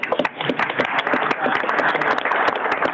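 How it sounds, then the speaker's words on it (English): City council members clap together for a birthday during a meeting, a brisk round of hand claps, close and lively, lasting a few seconds. "And, yes, we should clap."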